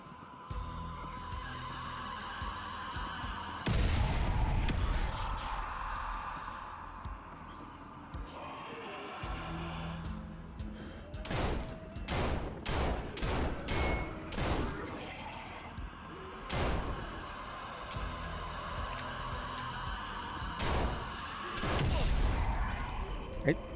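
Explosions and bursts of gunfire in the VR zombie shooter Zombie Army VR, with sharp repeated shots clustered mid-clip and heavier blasts, over game background sound.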